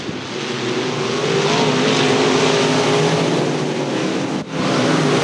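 Race cars battle in a heat race at Thunder Hill, their engines roaring loud and close in a dense, continuous drone with a brief dip near the end.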